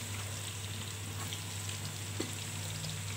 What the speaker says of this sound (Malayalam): അപ്പം അതിലോട്ട് നമുക്ക് ഈ സവാള ഇട്ടൊന്ന് വഴറ്റിയെടുക്കാം.